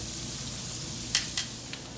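Filet mignon steaks sizzle in a hot pan with a steady, dense hiss throughout, and two or three brief clatters of the meat being moved near the end.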